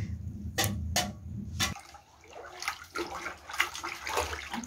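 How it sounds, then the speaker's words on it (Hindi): Cow dung being mixed and dissolved into water by hand, giving wet sloshing and splashing with a few sharp knocks, close and fairly steady throughout, with no talk. "ये मैंने इसमें गोबर ले लिया और गोबर को पानी के अंदर घोल लिया है अच्छे से"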